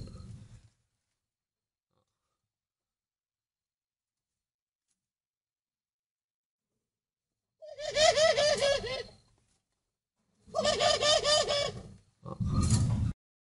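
Pigeon-like cooing during a mother bird feeding her chicks at a bird breeding farm, heard in three close bursts of soft warbling calls after a long quiet stretch.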